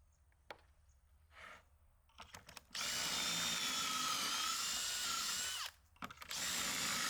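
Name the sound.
power drill drilling pocket holes in lumber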